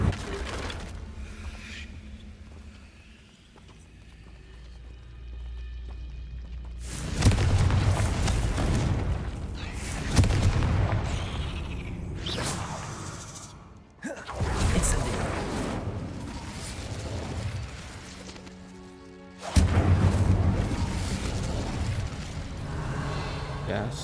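Confringo fire spell explosions in Hogwarts Legacy, several loud booming blasts in sequence with deep rumbling tails, while a voice speaks over the game sounds.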